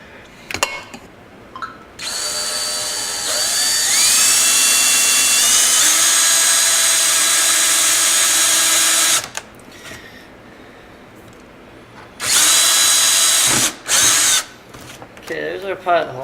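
A power drill whines loudly as it bores a pilot hole in a Sea Doo Spark intake box, its pitch rising as it bites, running for about seven seconds, then two short bursts follow.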